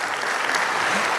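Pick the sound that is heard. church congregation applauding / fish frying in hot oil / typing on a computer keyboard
church congregation applauding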